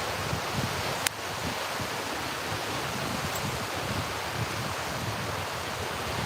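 Wind gusting across a microphone outdoors in wilderness country near Canada gives a continuous rough, rumbling buffet and rush with one sharp tick early on, no voices.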